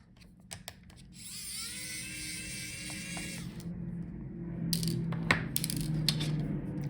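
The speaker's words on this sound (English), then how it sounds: "Unscrew these screws here." A small screwdriver backs screws out of a Lenovo IdeaPad 5 laptop during a teardown, giving quiet metallic ticks and a brief high whirring, close and faint over a low background hum.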